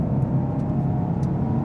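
A 2014 Chevrolet SS V8 pulling hard after a downshift to third gear, a steady, loud low engine drone with road and wind noise around it, no voices.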